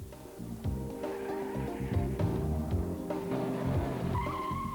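Tires of a 2002-era Ford Fiesta squeal as the rear axle steps out during hard cornering, a loud continuous screech with engine drone running steadily throughout, no talking.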